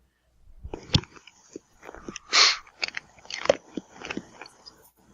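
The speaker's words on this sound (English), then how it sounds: "I'm hearing crunching." Crisp crunching bites, several irregular crunches close to the ear, with a brief sniffle-like burst in the middle and quiet gaps between.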